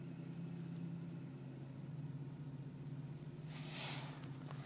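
Car engine idling after its EGR valve has been cleaned, giving a steady low hum with an even rhythm, heard quietly and without speech.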